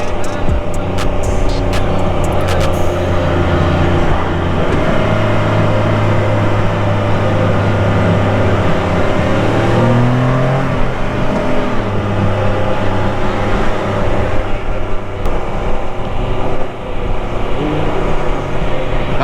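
A 2021 Can-Am Spyder RT Limited three-wheel motorcycle engine drones loudly and steadily, then revs and drops through the gears with a throaty burble on the downshifts.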